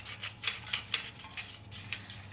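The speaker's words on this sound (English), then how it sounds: "And now we'll continue scraping." An engine surface on a Nissan SR20DET swap into an S13 or S14 240SX is scraped clean, giving a series of short, rhythmic rasping strokes, close and fairly quiet, with no talking.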